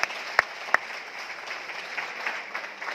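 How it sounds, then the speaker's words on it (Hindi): Applause from an audience welcoming two guests at an organics rice bran oil event, a steady spread of clapping after a couple of sharp louder claps at the start, moderately distant and without talk over it. "एक बार जोरदार तालियां दोनों साथियों के लिए प्लीज वेलकम"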